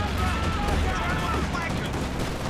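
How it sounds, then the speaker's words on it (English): An anti-infantry strafing run rips across the battlefield in Company of Heroes 2, a continuous heavy roar of rapid gunfire layered with booms, steady and loud for the whole stretch under a speaking voice. "Using the anti-infantry strafe, maybe hoping to pin these squads before they can pick it up"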